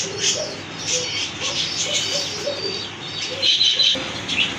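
American Lokkha pigeons coo softly in a rhythmic series of low calls, with some brighter chirps and rustling nearby at a pigeon farm.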